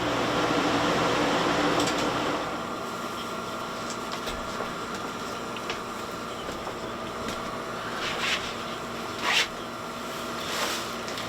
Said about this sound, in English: You might want to turn off the air conditioner.